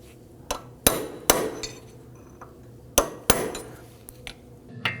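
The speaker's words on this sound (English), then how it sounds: "what we want to do is just gently dimple the axle ridge there," A hammer strikes metal to dimple the axle nut ridge on a 2005-2009 Subaru Legacy 2.5L H4. Six or seven sharp, ringing clanks land at an uneven pace, close up and clear against a quiet workshop.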